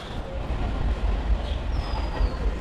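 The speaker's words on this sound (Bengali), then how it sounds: "আমাদের ট্রেন কিন্তু 2 নম্বর প্ল্যাটফর্মে ঢুকেছে" A train pulling into platform 2 at Birnagar railway station, a steady low rumble with rolling clatter throughout and a faint high squeal of wheels or brakes toward the end.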